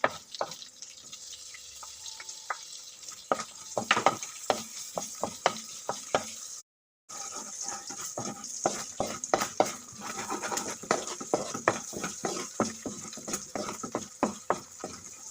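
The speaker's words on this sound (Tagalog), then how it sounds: "nilipat ko pala siya sa mas malaking kawali para idiretso ko ng isuti yung ating garlic tsaka onion kasama tong giniling" Ground pork frying with garlic and onion in a large wok, a steady sizzle broken by repeated scraping and stirring clatter from a spatula against the pan, close and continuous with a brief gap, no talk.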